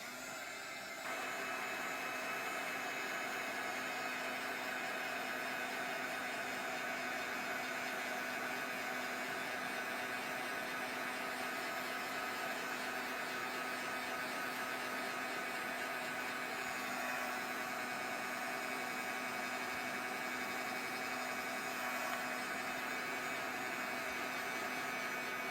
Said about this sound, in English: We're going to dry this now.